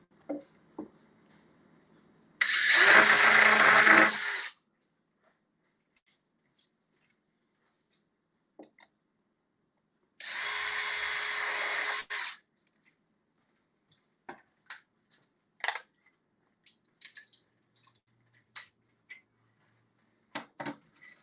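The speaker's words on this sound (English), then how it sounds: "And drill a little pilot hole." A power drill bores a small pilot hole in two loud whirring bursts of about two seconds each, separated by silence and followed by scattered light clicks and taps of handling.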